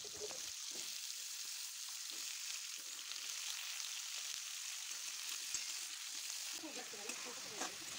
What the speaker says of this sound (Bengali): আমি আলুটাকে ভালো করে ভেজে নিচ্ছি